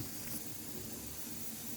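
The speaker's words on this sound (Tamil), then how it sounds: "பருப்பு ரசம் நல்லா கொதிக்கணும் ஃப்ரெண்ட்ஸ்" Steady hissing and bubbling of lentil rasam boiling in a pot, a constant close steam-like rush without pauses.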